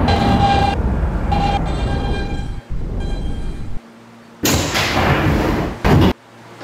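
Simulated R160B Siemens subway train running on the BMT Broadway Line in a Roblox game, with a steady loud rumble and motor whine broken by gaps, then bursts of hissing brake air and heavy thuds near the end.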